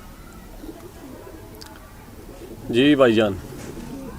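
A breeding pair of pigeons, a Teddy male and a Ferozpuri female, gives a short burst of close, throaty cooing near the end, over low background noise, with someone speaking briefly.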